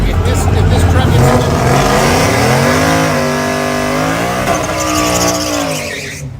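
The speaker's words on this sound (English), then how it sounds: "She done learned how to do her burnout real good" A no-prep drag race car does a burnout at a rough hood track, its engine held at loud, steady high revs with tire roar for several seconds before easing off.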